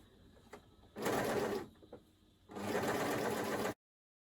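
An overlocker sews around freshly stitched fabric for a top with wide sleeves, running in two loud, steady bursts of rapid machine whirring separated by a quieter pause, with no talking.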